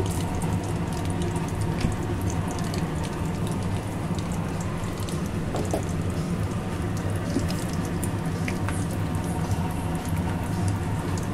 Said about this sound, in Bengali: এবারে দিয়ে দেবো জিরা ফোড়ন